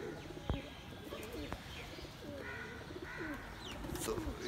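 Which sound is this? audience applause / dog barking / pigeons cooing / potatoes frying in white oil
pigeons cooing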